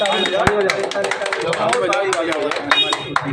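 People clapping at a village wedding celebration, scattered sharp claps mixed with loud overlapping voices, chatter and shouting close by throughout.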